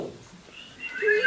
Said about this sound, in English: Effect, bird-like whistle.